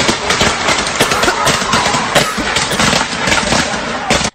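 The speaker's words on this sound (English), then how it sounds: "Oh, he's shooting it at people." Rapid, dense bursts of gunfire as a gang member shoots at people, loud sharp cracks following one another continuously for several seconds before stopping abruptly.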